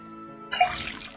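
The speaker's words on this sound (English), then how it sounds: "Then tap the faucet." Water runs from a tapped faucet in the Detective Grimoire video game, a short burst of splashing liquid starting abruptly after a faint hum and continuing at moderate level.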